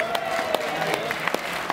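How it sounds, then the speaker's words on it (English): A crowd at a comedy show claps together for the local clubs, a steady wash of applause with a few sharper claps standing out, fairly close and continuous throughout. "We're going to clap for the clubs"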